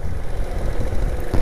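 A four-stroke motorcycle engine idles steadily, with a low, continuous rumble close by and a slight rise near the end, no one speaking over it.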